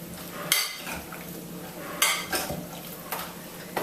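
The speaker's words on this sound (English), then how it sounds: "Give it a final stir. To distribute those olives." A spoon works through raw ratatouille with olives in a bowl, giving a few quiet, separate scraping and clinking strokes with soft pauses between them and no voices.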